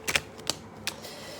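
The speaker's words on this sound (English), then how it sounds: "Let me just shuffle." Tarot cards shuffled by hand: a few quick, crisp papery flicks and taps in short bursts, close and fairly quiet.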